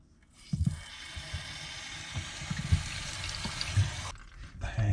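Filtered water runs steadily from the tap of a five-stage reverse osmosis system, a continuous hiss with faint gurgling and small knocks, starting after a brief quiet moment and cutting off near the end.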